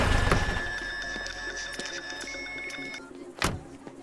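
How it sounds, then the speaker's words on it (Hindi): A phone rings inside a stopped car, its steady electronic tone running for about three seconds under road and engine rumble, followed by a sharp click. "फोन आ रहा है"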